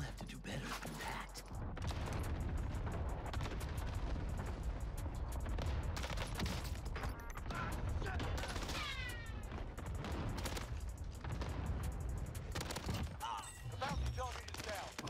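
Sustained gunfire during a firefight in Call of Duty Warzone on Rebirth Island, dense bursts and shots layered over one another with a constant battle din, while a voice talks intermittently over the action.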